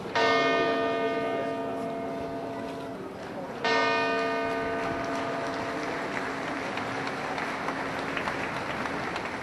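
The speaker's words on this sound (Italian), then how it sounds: "la campana della Torre Civica rievoca con i suoi rintocchi i 7 minuti che hanno sconvolto Treviso" Church bell of the Torre Civica in Treviso tolls in the town square, two loud strikes with long ringing decays, the second restriking about halfway through, over a steady hum of outdoor crowd and ambience.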